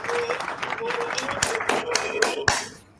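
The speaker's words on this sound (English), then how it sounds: "So let's give an applause to that." Audience applause at a car discussion event about B-segment SUVs, a dense wash of clapping lasting a few seconds with a louder burst near the end before it fades, voices mixed in.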